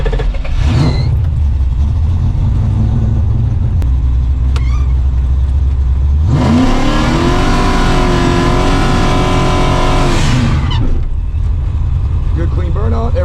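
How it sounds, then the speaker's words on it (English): A race car does a burnout: after a low idle rumble, the engine surges into a loud, sustained roar with rising revs for about four seconds, then drops back to a rumbling idle. "Good clean burnout."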